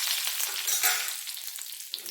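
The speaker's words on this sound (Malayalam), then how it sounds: "കടുക് പൊട്ടിക്കഴിഞ്ഞ് അതിലേക്ക് നമുക്ക് കരിപ്പിൻ്റെ ഇട്ട് കൊടുക്കാം." Curry leaves hit hot oil just after mustard seeds and dried red chillies have popped, for a Kerala banana-stem and cowpea thoran. The result is a loud, dense crackling sizzle with sharp spits throughout.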